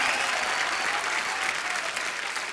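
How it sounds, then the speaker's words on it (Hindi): A studio audience on a Hindi comedy talk show bursts into loud, sustained applause, a dense wash of clapping with no other sound over it. "जोरदार तालियां।"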